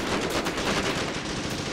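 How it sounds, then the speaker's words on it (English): Rapid gunfire in the tank combat game Tank Warfare Tunisia 1943, a dense continuous burst of shots with no pauses, loud and alone. "we've got fire coming in and out now"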